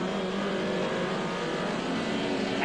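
A BMW-era touring car in a 1990 British Touring Car Championship race accelerating out of the pit lane, a loud, continuous engine roar sustained throughout without a break.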